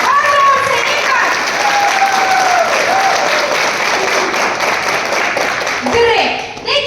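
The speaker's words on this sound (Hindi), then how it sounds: "जाके एक बार अपने लिए तालियां बजाओ सब, और जोर से एक बार।" Audience applause fills a training hall at a beauty brand event, sustained loud clapping from a large crowd with some voices and a whistle-like tone mixed in, fading near the end.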